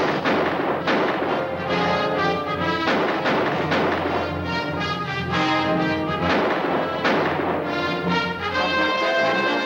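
Repeated bursts of heavy gunfire from a 1950 film as a plane's guns shoot at an aerial torpedo, loud rapid volleys continuing throughout over droning engine noise.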